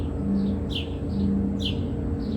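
Two birds chirp outdoors, each giving a quick sweeping call about a second apart, moderately close above a low steady hum with no voices.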